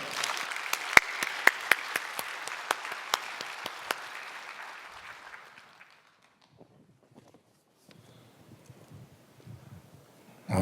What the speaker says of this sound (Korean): 우리 최원빈 집사님 나오실 때 우리 박수로 맞이해 주시기 바랍니다.